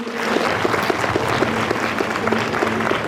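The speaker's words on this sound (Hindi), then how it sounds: "बच्चों तालियां" An audience at a school annual function at PM SHRI GSSS Randoh claps steadily, a dense, even burst of applause filling the room without pause.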